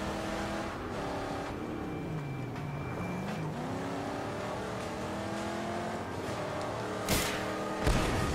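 Cars in the Mad Max video game race with engines revving and pitch rising and falling, ending with two sharp crash impacts near the end.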